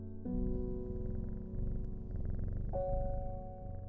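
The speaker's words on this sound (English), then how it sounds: "there's a very nice low purr" A cat's low purr in the video game Strange Horticulture, a soft continuous rumble running steadily under gentle tonal background music, quiet and close, with a few shifts in the accompanying tones.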